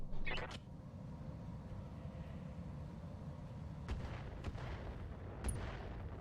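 Long-range missiles launched in the mech combat video game Roguetech, a short salvo of sharp whooshing bursts over a dense, rumbling battle bed, with a few more distant cracks following.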